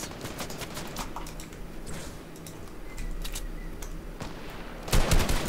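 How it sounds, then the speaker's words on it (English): Sniper fire and other gunshots in a Fortnite match, scattered sharp cracks at varying distances over steady game ambience, with a louder cluster of shots near the end. "someone's trying to snipe me"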